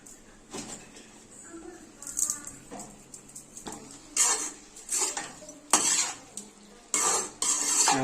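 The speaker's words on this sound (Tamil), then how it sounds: "நல்லா உப்பு மிக்ஸ் ஆகிற அளவுக்கு கிண்டி விடுங்க." Chicken liver masala is stirred with salt in a pan, a spoon scraping and clinking against the metal in irregular bursts over a faint sizzle.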